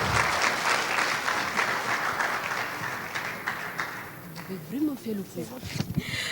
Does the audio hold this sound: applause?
yes